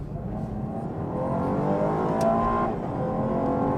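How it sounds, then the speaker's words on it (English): A 2018 Chevrolet Camaro engine revs continuously and climbs in pitch, a steady loud drone heard from inside the moving car, with road noise beneath. "The car revs out pretty good, cuts right in"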